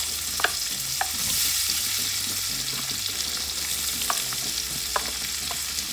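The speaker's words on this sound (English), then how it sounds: "now I'm gonna go in with me onion and pepper" Chopped onion and a whole Scotch bonnet pepper fry in hot oil for a Jamaican saltfish cook-up, a steady close sizzle broken by several sharp scrapes and taps of the stirring spoon against the pan.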